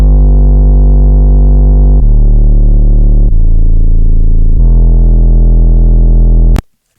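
Deep, distorted 808 bass pattern from an FL Studio beat in a melodic trap style, loud sustained sub-bass notes changing pitch in long steps for about six seconds before stopping abruptly.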